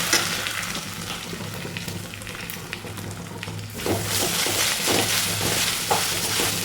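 Curry leaves and ground coconut paste frying and sizzling in a pan for jackfruit thoran, a steady close crackle that swells louder partway through as the paste goes in, with occasional stirring clicks.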